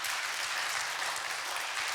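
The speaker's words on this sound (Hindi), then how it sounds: "जोरदार ताली मार दो तब हम प्रार्थना करें." A church congregation claps loudly during a Hindi-English worship service, forming a dense, steady wash of applause that carries on without a break.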